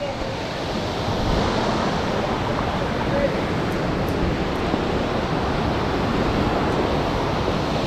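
Hulugan Falls, a tall waterfall in Luisiana, Rizal, gives a constant loud rush of falling water, broad and unbroken from start to finish, with no other sound standing out.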